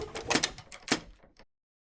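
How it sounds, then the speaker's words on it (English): A cartoon key turning in a front door lock gives a short burst of close metallic clicks and rattles that ends abruptly into silence. "She gets the key and locks the door"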